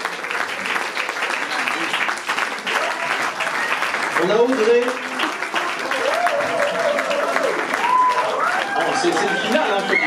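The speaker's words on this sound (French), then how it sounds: "on applaudit tout le monde" Sustained crowd applause and cheering at the finale of a fashion show in Dijon, steady and fairly loud throughout, with a voice speaking over it.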